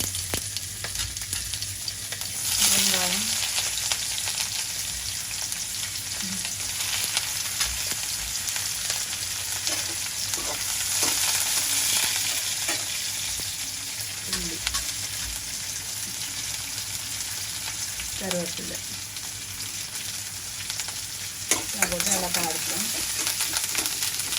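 Beetroot with cumin sautéing in a pan, a steady sizzle running throughout with occasional stirring scrapes and a few brief voice sounds in the background.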